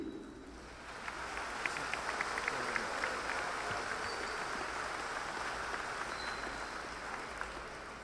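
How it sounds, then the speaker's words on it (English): Applause from a large audience at a Navarro College commencement ceremony in Ellis County, a steady distant wash of clapping that lasts several seconds with no talk over it. "Please offer them a round of applause"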